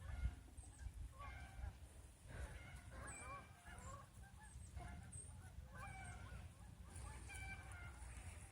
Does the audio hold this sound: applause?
no